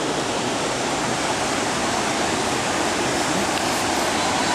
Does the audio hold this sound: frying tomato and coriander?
no